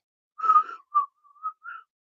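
A person whistles a short, clear melodic phrase: a longer warbling note, then a few brief separate tones, close and alone against silence.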